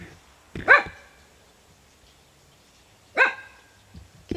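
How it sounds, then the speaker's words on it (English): A dog barks twice outdoors at a campsite, two sharp close barks separated by a pause, with quiet in between. "What you barking at?"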